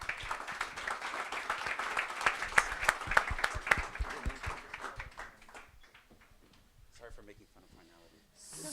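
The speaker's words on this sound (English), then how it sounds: "Big round of applause," A conference audience at a summit in Paris applauds at the close of a talk, with dense clapping for about five seconds before it thins into scattered claps and fades, and a voice speaks over the dying applause.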